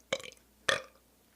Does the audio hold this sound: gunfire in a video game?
no